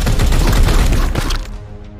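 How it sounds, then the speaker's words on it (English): Dense, rapid volley of gunfire in the Warhammer 40K: Chaos Gate - Daemonhunter video game, loud and sustained for over a second before cutting off into a fading echo. "Opening fire!"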